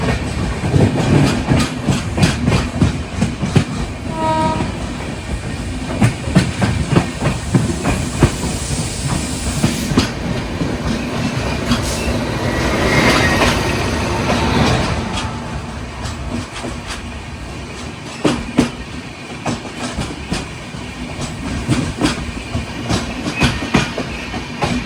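The Nizamuddin–Trivandrum weekly superfast train on the Konkan Railway rolls through a station during monsoon, a loud sustained rumble with rhythmic wheel clatter and hiss, close by and continuous, with no speech.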